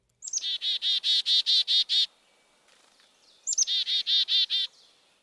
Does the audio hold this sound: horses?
no